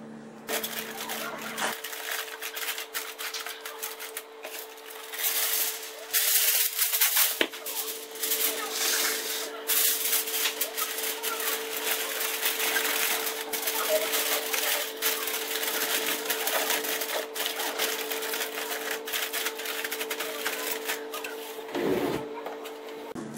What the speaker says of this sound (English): we're going to get out some aluminum foil. We're going to cover this whole bad boy up.